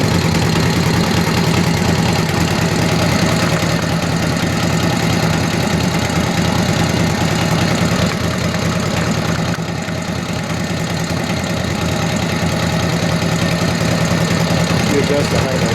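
An original-paint 1949 Harley-Davidson WL 45 motorcycle engine idles loud and close, a dense, steady rumbling chug that runs continuously, with a person talking over it.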